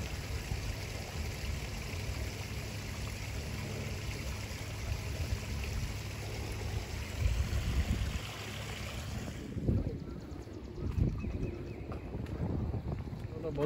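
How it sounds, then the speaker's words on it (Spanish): Water flows out of an opening into a stream at Black Hill Regional Park, a steady broad rushing wash that later thins, with wind buffeting the microphone and people talking over it. "mire cómo sale el agua de ahí"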